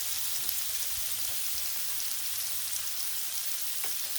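Bacon strips sizzle and fry on a Blackstone flat-top griddle, a steady close hiss of crackling fat with scattered small pops, continuous for the whole stretch with no voices.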